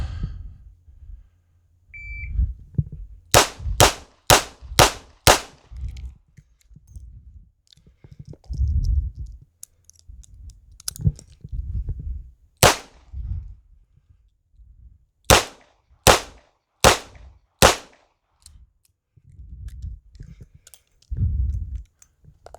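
Shots from a 2-inch Smith & Wesson 642 snubby five-shot revolver crack out in two quick strings of five, sharp and loud, with a pause for reloading between them and quiet shuffling around.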